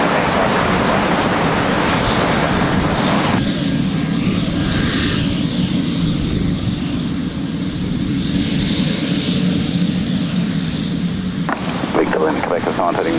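An airliner, such as an A320, landing at Gold Coast Airport, a loud continuous engine roar with wind buffeting the microphone, steady throughout and easing slightly midway.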